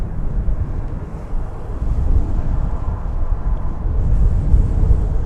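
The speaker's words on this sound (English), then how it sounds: "787-8 Dreamliner off on a trans-Pacific mission to the People's Republic" An American Airlines Boeing 787-8 Dreamliner departs on takeoff, its jet engines a steady low roar carried with heavy wind buffeting across the microphone, sustained and fairly loud throughout with no talk.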